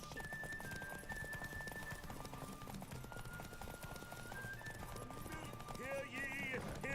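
Roach, Geralt's horse in The Witcher 3, gallops in a fast, steady clip-clop of hooves that runs throughout, with a whinny near the end, under game music and a voice.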